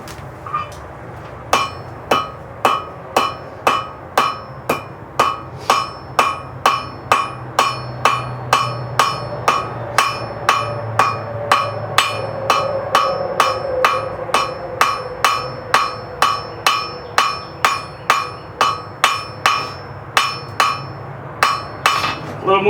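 Steady rhythmic hammer blows on a hot nail at an anvil during heat forging, each strike a bright metallic ring, repeating evenly and close up, some lighter finishing taps without any talk.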